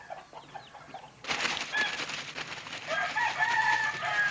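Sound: game rooster crowing and clucking

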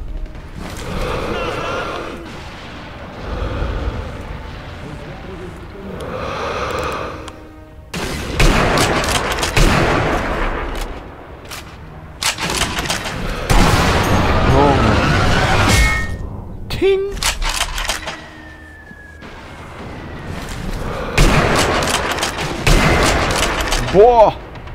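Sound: weapon gunfire in the video game Sniper Elite V2

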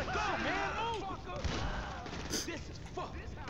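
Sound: shotgun fire in video game GTA 5

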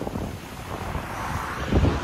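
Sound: strong wind and rough Black Sea in Sochi

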